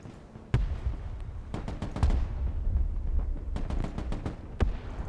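Machine gun bursts and bomb blasts in Broken Arrow, a military strategy game, come as sharp, scattered cracks and thumps, some in quick runs, over a low rumbling background.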